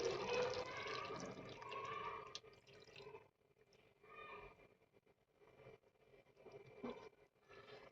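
A small splash of water is poured into a pan of chicken and potato curry, a soft hiss at first that fades into faint trickling, dripping and light pan noises.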